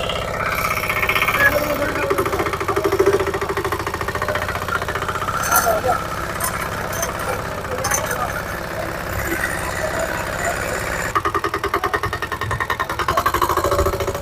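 A Lohan Agro power tiller with cultivator attachment runs at a university agricultural fair demo, its mid-pitched engine chugging steadily throughout with a knocking pulse, while people talk over it nearby.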